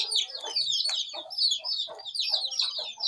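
A maroon hen clucks in short, repeated bursts while her six chicks peep in high, rapid chirps throughout, close by.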